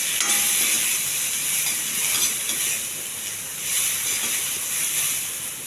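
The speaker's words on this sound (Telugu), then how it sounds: "కరివేపాకు, ఉల్లిపాయ, పచ్చిమిర్చి. ఇవి కొంచెం దోరగా వేగించాలి." Curry leaves, chopped onion and green chillies fry in hot oil in a pan, giving a steady bright sizzle and hiss that stays close and even throughout, swelling slightly twice.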